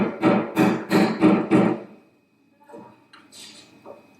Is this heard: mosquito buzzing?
no